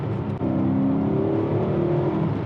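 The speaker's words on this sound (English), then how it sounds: "It's the raw intake and exhaust that you can hear" A BMW E39 M5 engine drones and rises in pitch as it revs, a steady close-up growl of raw intake and exhaust with a brief dip near the start.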